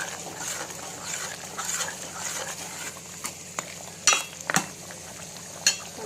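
A spoon stirring dhosakaya mutton curry in a pot, with soft scraping and a few sharp clinks of metal against the vessel over a low sizzle; no one speaks.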